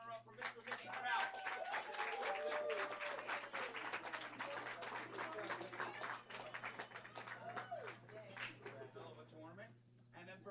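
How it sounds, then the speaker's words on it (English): Applause from a tournament audience at a trophy ceremony honoring the runner-up, a steady dense wash of clapping that runs for about ten seconds with voices and cheers mixed in, then thins out at the end. "Give a round of applause"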